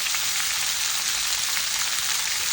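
Vegetables with turmeric frying in a pan for a Bengali curry, a steady close hiss and sizzle that holds evenly throughout without a voice.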